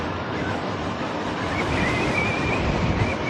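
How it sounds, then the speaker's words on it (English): Strong wind buffeting the microphone outdoors while riding a bike on a trail, a continuous broadband roar with slow swells and no distinct events, loud and close throughout, no voices. "It's quite windy."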